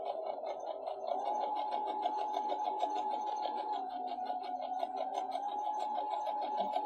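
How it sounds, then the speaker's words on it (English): A sewing machine stitches elastic, its motor humming steadily at a close, even pace for several seconds with no talking. "go ahead and sew all the way back up"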